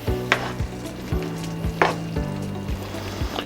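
Chicharrón mixture with cilantro is stirred in a hot frying pan, soft sizzling under a few sharp utensil scrapes and taps against the pan, close and fairly quiet.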